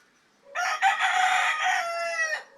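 A Red Tiger game fowl breeder rooster crows once, a clear, fairly close, sustained cock-a-doodle-doo call lasting about two seconds, heard alone without talking.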